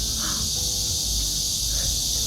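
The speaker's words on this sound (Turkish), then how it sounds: "Ağustos böceklerinin çılgın sesli gerçekten." Cicadas in South Korea drone loudly and continuously in summer, a dense high-pitched buzz filling the air with low rumbling background noise underneath.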